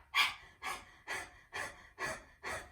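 Forceful exhales during yoga practice, five sharp breaths at a steady rhythm of about one every half second, close and clear with no talking.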